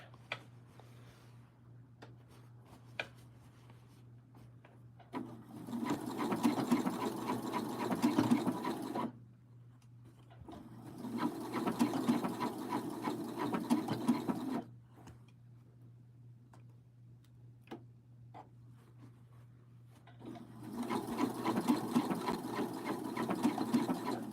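A sewing machine stitches fabric toward a thick side seam, running in three steady bursts of several seconds each, with quiet handling gaps and a low hum between runs.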